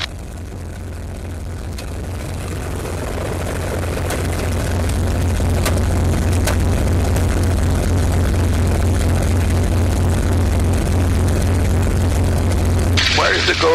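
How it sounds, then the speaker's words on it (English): A small aircraft engine warms up, its low droning rumble building gradually and then holding loud and constant, with voices talking over it. "You have to warm the engine."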